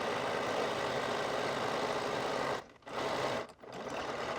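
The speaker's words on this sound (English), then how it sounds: "So I am just going to sew from one side seam all the way to the other." A sewing machine stitches a dress hem from one side seam to the other, running in a loud continuous whir, stopping briefly twice before resuming.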